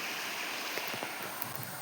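A forest waterfall pours steadily in a short, even wash of rushing water, broadband and fairly close, with no voices heard.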